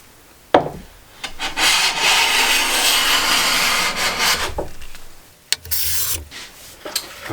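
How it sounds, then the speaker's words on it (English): A hand plane taking a long, steady shaving stroke along the back edge of a wooden shooting board, trimming it flush with its MDF base, close and loud, followed by a few sharp knocks and a shorter rasping pass. "This back edge can now be planed flush with the MDF base."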